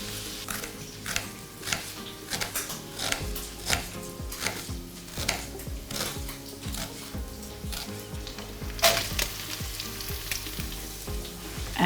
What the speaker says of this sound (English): We'll just let that fry for a minute or 2.